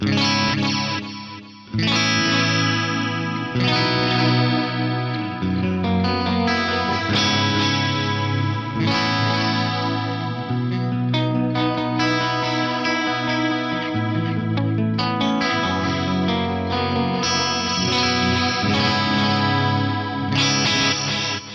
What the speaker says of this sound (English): It's an amazingly rich sounding delay right there.